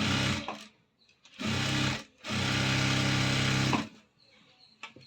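A sewing machine stitches a cross cut blouse in two long, steady whirring bursts separated by a short pause, followed by quieter handling noises near the end.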